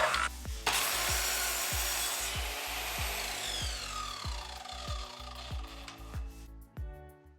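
Hand saw cutting wood into legs for a DIY cat house, a steady run of about a dozen rhythmic back-and-forth strokes, close and loud, with no talking.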